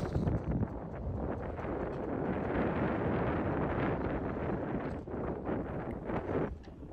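Strong wind buffeting a microphone up a boat's mast, a loud rumbling roar that surges and gusts unevenly throughout, with no talking.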